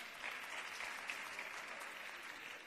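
Applause from the audience at a Christmas choir and carol contest as jury members are introduced, a steady, fairly quiet wash of clapping from many hands that holds even for the whole stretch.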